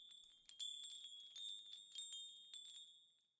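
Bells chime in Honkai Impact 3rd, a cluster of bright ringing strikes with sustained high tones, quiet and alone, fading toward the end.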